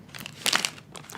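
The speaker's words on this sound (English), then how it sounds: "There's nothing worse than an unsatisfying tear." Paper or packaging being torn close up in a quiet ASMR setting, a short crinkly rip with crackling bursts that swell in the middle and trail off, no voices.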